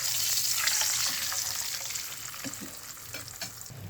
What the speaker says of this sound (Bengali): ফ্রাই প্যানে তেল দিয়ে দেবো, সোয়াবিন তেলটা গরম হয়ে গেছে, পরোটাটা দিয়ে দেবো